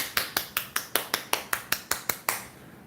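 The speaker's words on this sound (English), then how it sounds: "my hands clapping" Eleven sharp hand claps at a steady, quick rhythm, close and fairly loud, with no one talking, ending in a brief quiet tail.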